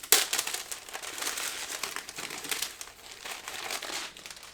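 Tissue paper wrapping a book subscription box is unfolded and opened, giving a steady, close crinkling and rustling that runs continuously with small bursts of louder crumpling.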